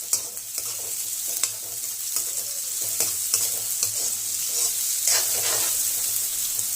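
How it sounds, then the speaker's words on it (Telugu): Chopped onions and green chillies fry in well-heated oil for a chicken keema curry, giving a steady, close sizzle with repeated stirring scrapes against the pan. No one speaks. "ఆయిల్ బాగా వేడెక్కిన తర్వాత ముందుగా కట్ చేసుకున్న ఆనియన్స్ మిర్చి వేసుకోవాలి"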